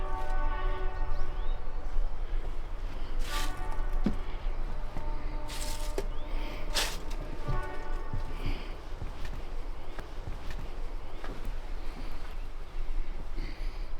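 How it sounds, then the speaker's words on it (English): A train rumbles past steadily at Drinkwater Crossing, BC Forest Discovery Centre, with a long sustained horn blast sounding over the continuous rolling noise of the cars. "we can watch the train come around the corner here at Drinkwater Crossing"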